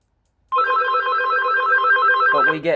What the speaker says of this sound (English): Trying to turn off the Casio phone mate's ringer